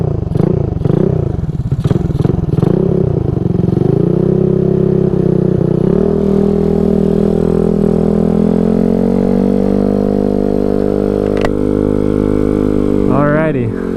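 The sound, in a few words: Honda Ruckus scooter with new brake levers being ridden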